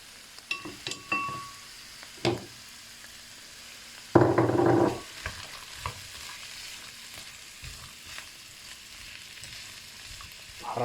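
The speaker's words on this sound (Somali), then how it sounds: "waxaan ku shubay birtaawadan saliid yar aan ku daray waxaan ku darsanaa marka digirtii cagaarta ahayd" Green beans in a little oil in a pan, stirred with a few scrapes and clinks and a short burst of sizzling midway, quiet crackling between the strokes.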